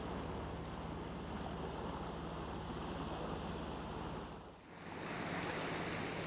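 A sailboat motors along at sea under engine power, a steady low engine drone blended with continuous wash of waves and wind noise, briefly dipping near the end before returning.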